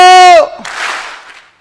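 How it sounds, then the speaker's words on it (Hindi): A seminar audience at a network marketing training gives one sharp, unified clap right after a sustained voiced call, leaving a brief fading burst in a large hall. "जब भी मैं हेलो बोलूंगा एक बार ताली बजाएंगे"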